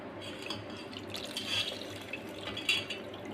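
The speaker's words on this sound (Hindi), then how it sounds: "अब हम निचोड़ के इसका जो पानी है वो निकाल लेते हैं।" Fresh milk curd (chhena) being squeezed by hand to press out its water, giving soft trickling and dripping with a few brief splashes, faint and close, with no speech.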